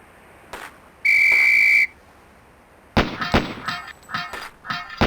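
A range whistle blast from the shooting drill in the PC game Police Quest: SWAT sounds once, a steady piercing tone lasting under a second, followed by a burst of clanking, gunfire-like impacts.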